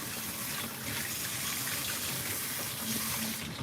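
Warm water runs steadily from a tap at a grooming tub before a cat is washed, a constant soft gushing hiss with no talk over it.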